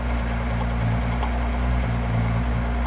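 A Ford 200 inline six-cylinder engine idles loudly and steadily nearby, a deep rumble with a slightly uneven pulsing beat.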